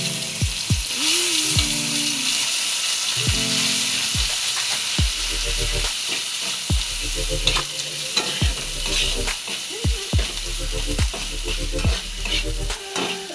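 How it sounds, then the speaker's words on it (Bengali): Ground dried fish paste fries in oil with nigella seeds in a kadai, crackling steadily while a spoon scrapes and stirs in repeated rhythmic strokes, with squeaky scraping tones throughout and no talk. "এবার এই বাটাটা আমি আবার তেলের মধ্যে দেবো।"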